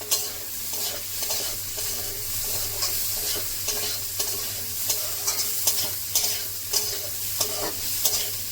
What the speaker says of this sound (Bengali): দেখুন ভাজা হয়ে গেছে সবজিটা।